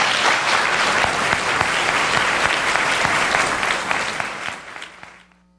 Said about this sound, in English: we have a big round of applause for our panelists